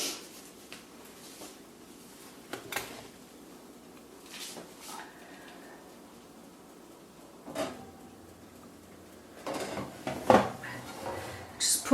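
A custard tart goes onto the lower shelf of a home oven amid sparse clinks, scrapes and knocks of a tray and oven rack, light and intermittent, with quiet gaps between the handling noises.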